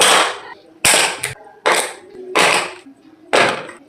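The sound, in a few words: crunchy nut chikki brittle snapping and cracking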